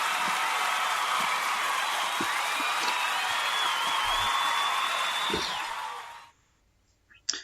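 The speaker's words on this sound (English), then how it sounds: "Let's hit the applause button for the entire NCAA women's volleyball season." Applause celebrating the NCAA women's volleyball season: a dense, steady wash of crowd clapping with scattered whoops and cheers, holding loud for about six seconds before cutting off abruptly into near silence.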